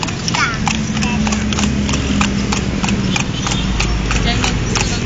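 Hooves of a horse pulling a kalesa carriage clip-clop in a steady rhythm around Luneta park in Manila, close and continuous over traffic noise, with people chatting throughout.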